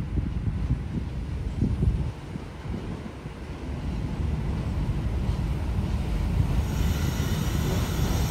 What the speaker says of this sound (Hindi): पाकिस्तान एक्सप्रेस सुबह 6 बजे रावलपिंडी से चली है कराची के लिए